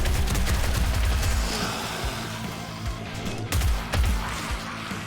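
Gunfire in the zombie survival game 7 Days To Die, a loud sustained stretch of rapid shots and impacts that thins into scattered bursts, with no talk over it.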